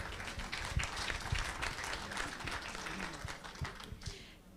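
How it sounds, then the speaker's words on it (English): Audience applause at a youth panel event on climate adaptation finance, moderately quiet and fairly even across the whole stretch, with a few sharper claps and taps standing out. "A big applause."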